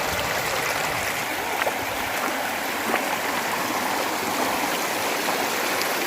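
Water pours steadily over an overflow weir, a continuous rushing, splashing roar that stays close and even throughout, with no voices.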